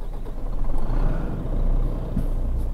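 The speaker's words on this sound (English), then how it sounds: "This truck also have quite nice engine sound. It's a Renault." Renault truck engine in Euro Truck Simulator 2, a deep steady diesel rumble with a low droning hum that swells slightly and stays loud throughout, with no talk over it.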